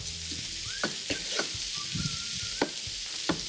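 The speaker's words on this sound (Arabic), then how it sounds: "هلا حطيت الفريكة،" Freekeh with onion, garlic, carrot and celery sizzles quietly in a pot, a soft frying hiss broken by a few clicks and knocks of stirring.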